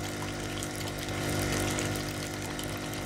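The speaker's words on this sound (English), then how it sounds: "The left wall is lined with churning tanks of water." Metal water tanks in a bait shop in the game Kentucky Route Zero churn steadily with a loud, continuous bubbling and pumping hum, constant and close, with no voices.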